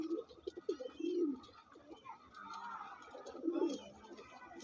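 Andhra pigeons coo in a series of low, throaty calls, some rising and rolling, close and fairly loud with a faint chirp now and then behind them.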